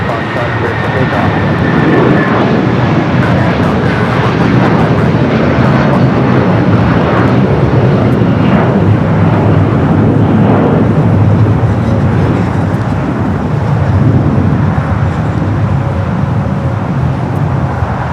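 An aircraft taking off from a runway at LAX, a loud continuous engine roar mixed with distant traffic noise, with radio voices underneath.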